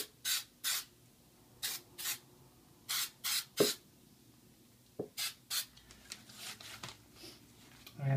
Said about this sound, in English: when doing quick little bursts sprays instead of long, heavy sprays